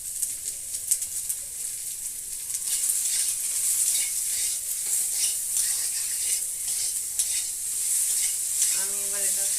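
Fried onions sizzle steadily in a hot pan as a utensil stirs and scrapes through them, close and continuous, with a few brief clinks toward the end and no talking.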